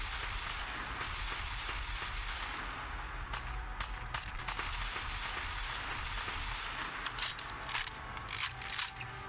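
Rapid, clattering gunfire from a weapon in Fallout 4 rattles as quiet, dense bursts of sharp clicks and pops, mechanical and ratchety, running steadily throughout with no voice over it.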